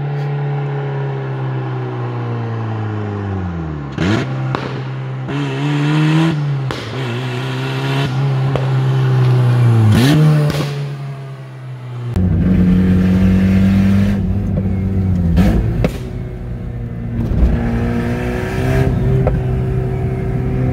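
Turbocharged Mazda Miata engine pulling through gears while driving, a loud droning note rising in pitch, dropping at each shift, then climbing again with intermittent whooshes and clunks.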